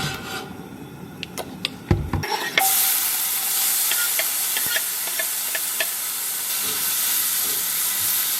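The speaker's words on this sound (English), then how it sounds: "you just let the tomatoes fry" Tomatoes hit a very hot pan of olive oil, and after a few clattering knocks a loud, steady sizzle takes over and holds to the end, with faint pops and no talking.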